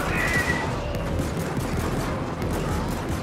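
Auto gun turrets in Helldivers co-op gameplay fire a continuous rapid stream of shots, dense and steady, with no talk over it.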